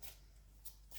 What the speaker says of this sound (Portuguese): Deixem-me só baralhar um pouco as cartas, porque elas estavam numa determinada ordem.